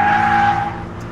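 A Toyota GT86 front-engined rear-wheel-drive sports car driven hard on a circuit, engine note and tyre squeal rising loud then easing off as it moves away within a second.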